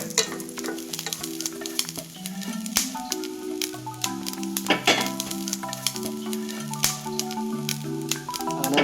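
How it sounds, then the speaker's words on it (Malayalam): Close, steady sizzling of nuts and raisins frying in a pan, with scattered sharp crackles and pops and a low tonal hum underneath. "നമ്മുടെ കശുവണ്ടി പരിപ്പ് അവിടെ വറുത്തെടുക്കുകയാണ്"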